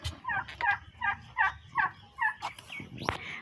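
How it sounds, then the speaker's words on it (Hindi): Turkeys gobble in a rapid series of repeated bursts, several birds calling close by in quick succession, with low background rustling and no talk. "अभी हमने अपने टर्की बर्ड्स को भी मॉर्निंग मील दे दिया है।"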